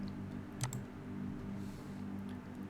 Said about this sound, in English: on my keyboard I can just smash F and I got the fill bucket